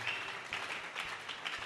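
A church congregation clapping during a worship service, a brief burst of dense, moderately distant applause.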